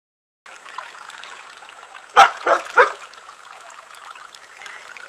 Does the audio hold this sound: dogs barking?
yes